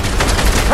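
Gunfire in Fortnite, a dense rapid burst of loud shots with a brief tonal sound at the end.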